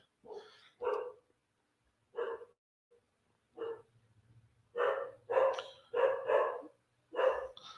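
A dog barks excitedly indoors, first in scattered single barks and then in a quick run of repeated loud barks close by, with a faint low hum in the background.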